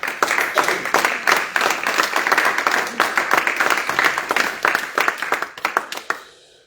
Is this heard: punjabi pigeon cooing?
no